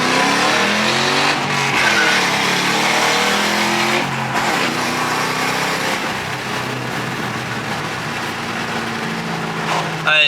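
A Ford Mustang 3V with a popcorn tune accelerates hard on its first drive, the engine roaring loud and close from the cabin in a continuous rising rev, with people talking over it.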